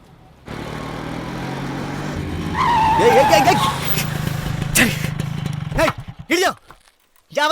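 A brand-new car's engine roars up close, tires squeal sharply in a skid, then a crash lands with several heavy, clattering impacts in a dramatized scene, with a voice briefly heard near the end.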